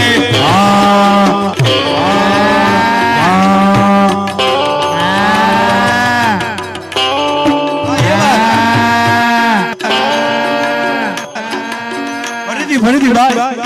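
A folk dayro stage performer imitates calves and cows mooing into a microphone, loud voiced moos following one another with short gaps.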